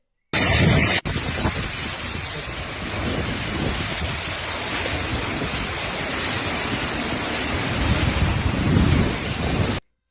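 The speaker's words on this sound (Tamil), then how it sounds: "ஓமானில் தற்போது அதிதீவிரமாக கனமழை பெய்து வருகிறது" Heavy rain pours steadily in Oman during a severe thunderstorm, a dense, loud hiss of rainfall that continues throughout, with a sharp burst near the start and rumbling swells toward the end.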